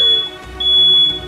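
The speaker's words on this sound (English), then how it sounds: "That's my fire alarm in my face." Smoke alarm in a new home sounding repeated piercing high beeps, loud and close, with no talk over it.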